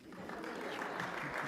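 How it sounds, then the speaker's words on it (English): An audience claps steadily at a lecture event, a soft, continuous patter of many hands, fairly quiet and heard alone for a brief moment. "I can still keep clapping, thank you."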